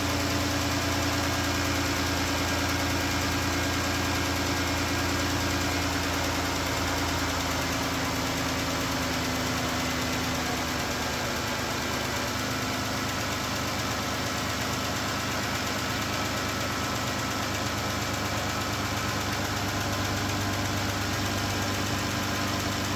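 Idling 3.6L Pentastar V6 in a 2014 Chrysler with an engine tick from the rear cylinder head, a steady close-up hum with a fine rapid ticking running underneath throughout.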